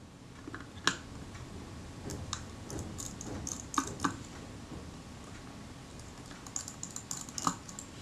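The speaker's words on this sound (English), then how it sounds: "So I'll remove the black screws." Small black screws holding the bellows to the front standard of a Kodak Retina IB camera are backed out with a small driver, giving sparse, quiet metallic ticks and clicks close by in a hushed room.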